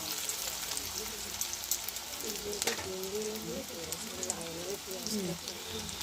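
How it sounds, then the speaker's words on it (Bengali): Onion frying and being stirred in a wok while an egg and bottle gourd dish is cooked, with a steady sizzling hiss throughout and a voice talking over it. "কড়াতে পেঁয়াজটা দিয়ে ভালো করে আমি নাড়াচাড়া করে নিচ্ছি।"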